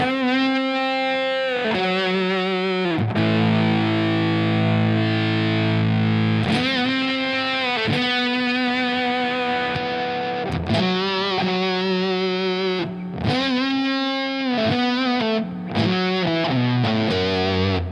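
Heavily fuzzed electric guitar chords through a Big Muff fuzz pedal into a cleaner amp ring out loud and thick, sustaining between strums with buzzy, saturated distortion.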